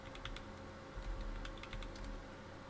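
Quick bursts of keystrokes on a computer keyboard, soft close clicking in an uneven rhythm over a faint steady room hum, with no voices.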